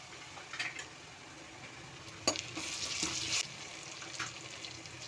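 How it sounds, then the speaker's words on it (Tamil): Ginger garlic paste sizzles and fries in a pan for mutton curry, a steady crackling hiss with a few brief louder stirring scrapes. "நம்ம இப்போ எடுத்து வச்சுக்கிற இஞ்சி பூண்டு பேஸ்ட் அது சேர்த்துடலாம்."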